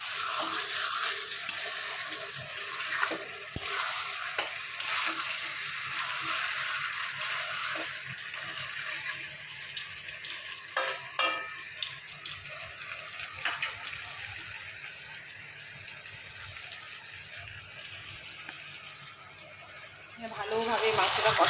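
Mutton being stir-fried and browned in a pan in a home kitchen, a steady sizzle and hiss with occasional scraping clatter, heard under nearby talking.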